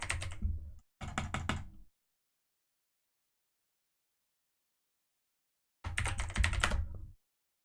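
Bursts of computer keyboard typing, two close clusters of rapid keystrokes, then a silent gap before another dense flurry of keys, loud and near with no voices.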